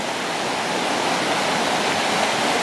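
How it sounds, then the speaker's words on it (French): A small waterfall cascades beside an old water mill, a steady, close, full rush of falling water that runs unbroken and evenly loud throughout, with no voices. "Cette espèce de cascade là."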